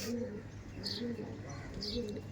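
A Panjabi Malbayi pigeon held in the hand gives soft, repeated coos at a steady rhythm, with a voice talking over the cooing.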